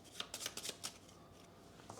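A deck of cards is shuffled at a tabletop board game session in a few quick riffling bursts, close and fairly quiet, and then briefly stops.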